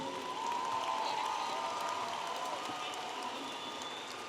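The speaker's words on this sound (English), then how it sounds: "a round of applause for the master's graduates from the College of Education" A large crowd at a university spring commencement applauds the master's graduates of the College of Education, a steady wash of clapping filling the whole stretch at an even level with no break.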